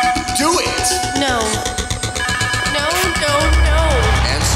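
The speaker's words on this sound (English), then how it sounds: "Answer the damn phone." A telephone rings insistently in the Traces of Eliza video game, a loud trilling bell repeating over layered game sound and tonal music, with a voice speaking at moments.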